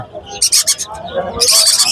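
Shrill, rapid myna chick calls in bursts at a bird market in Mirpur 11, with a loud cluster early on and another sustained stretch at the end, close by over faint background noise.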